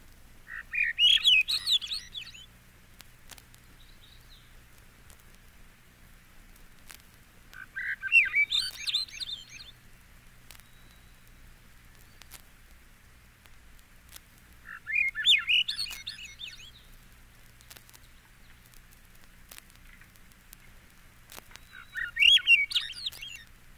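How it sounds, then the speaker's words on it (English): Swainson's thrush song in four separate bursts of rising, spiraling fluting phrases spaced several seconds apart, clear and fairly close over a quiet low hum. "Swainson's Thrush."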